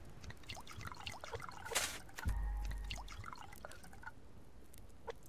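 Water trickles and drips steadily as plants are watered in the survival video game Subsistence, with a brief splashing burst and a low rumble partway through.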